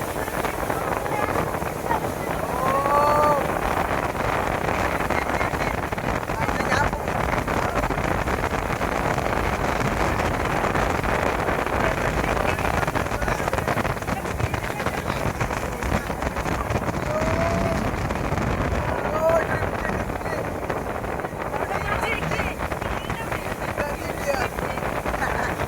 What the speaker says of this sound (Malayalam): ഇതാട്ടാ കൈ നമ്മള് വന്ന ബോട്ട് അടിപൊളി.